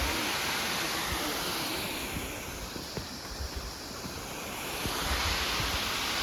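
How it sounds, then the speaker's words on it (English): A big waterfall on Mount Rainier, fed by snowmelt, roars as a dense, steady wash of broadband rushing water heard from a distance, with light wind noise and no talking. "A pretty cool big waterfall right there,"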